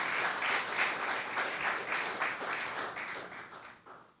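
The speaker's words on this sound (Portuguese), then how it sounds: "Mais palmas ao Senhor." Church congregation applauding during a Portuguese-language worship service, a steady wash of clapping that fades toward the end, with no speech over it.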